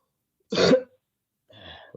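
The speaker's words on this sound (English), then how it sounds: "you can cough. You can cough." A single harsh cough bursts out, followed after a pause by a softer throaty sound, with silence around them.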